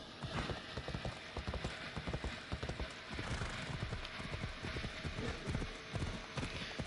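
A horse's hooves clip-clop steadily in the video game Assassin's Creed Odyssey, a brisk rhythmic gait of sharp knocks that carries on throughout, with a brief whinny and a bed of game ambience.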